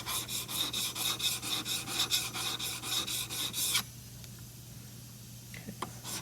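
A metal tool blade is drawn back and forth over a sharpening stone in steady, close rasping strokes for several seconds, then stops, leaving quiet room tone with a couple of faint knocks.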